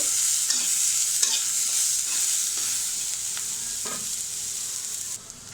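Onions sizzle steadily in a hot pan, with a few scraping stirs of a spoon breaking through the constant frying hiss; no voices.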